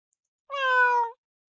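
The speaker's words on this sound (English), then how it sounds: "I could hear the cat meowing nearby." A cat in a video game gives a single clear, drawn-out meow of under a second, close and alone against silence.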